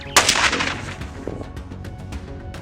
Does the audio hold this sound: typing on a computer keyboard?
no